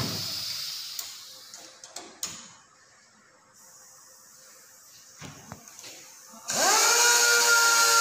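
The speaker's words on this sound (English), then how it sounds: "Now this air motor speed you could see." A pneumatic air motor on a trainer unit, with its speed set by a flow control valve, hisses faintly amid clicks and knocks, then bursts into a loud, rising whir as the air flow opens.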